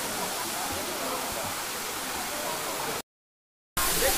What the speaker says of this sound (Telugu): ఈ వాటర్ ఫాల్స్ చూస్తూ ఉంటే నా మనసు ఆనందంతో ఉప్పొంగిపోతున్నది